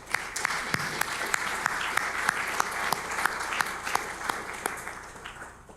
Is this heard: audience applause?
yes